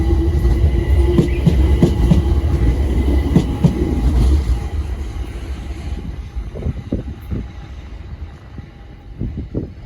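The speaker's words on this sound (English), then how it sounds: "departing is the 1118 Windrush line service to Clapham Junction" A London Overground Windrush line train to Clapham Junction pulls out of a station with rumbling wheels and rhythmic clickety-clack. It is loud and near at first, then fades into the distance as scattered rail clatter continues.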